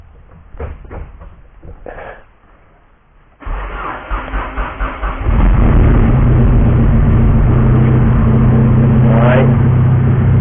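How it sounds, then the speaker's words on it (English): A Honda Civic with an alternator fault cranks briefly, then catches and starts. The engine rises through a few quick revs and settles into a loud, steady idle, very close by. "So we got the car started"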